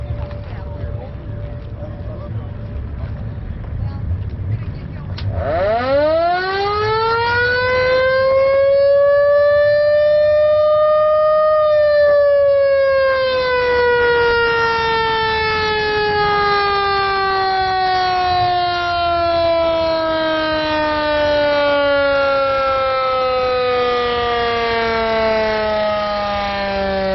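Mack fire truck siren winding up from low to a loud sustained wail, then slowly winding down over many seconds, with a faint murmur of voices and background noise before it starts.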